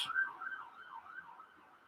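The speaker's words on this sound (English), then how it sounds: "That's an ambulance." An ambulance siren in Copenhagen wails in a wavering, rising-and-falling tone, heard at a distance and fairly faint, with nothing else competing.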